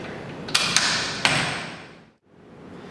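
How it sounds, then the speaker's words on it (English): Carriage of an AGP NS250 diamond core drill stand slides along its column, giving a sustained mechanical rumble broken by a few sharp metallic clicks, then dying away to near silence before the noise picks up again. "you just run your carriage up and down, make sure it's not too tight"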